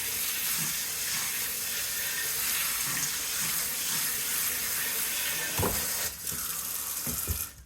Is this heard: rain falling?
no